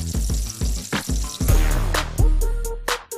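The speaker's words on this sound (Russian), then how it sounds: "Берем нашу паприку и все то же самое обжариваем." Paprika peppers drop into hot oil in a pan and crackle loudly, with close, bursting sizzles and spits fading into a steady frying hiss.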